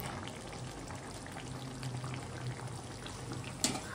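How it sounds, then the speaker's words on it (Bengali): Bottle gourd peels fry in hot oil with onion and nigella seeds, giving a steady, fairly quiet sizzle with a brief clatter near the end. "পেঁয়াজ দিয়ে কালো জিরে ফোড়ন দিয়ে লাউয়ের ছোকলা ভাজা"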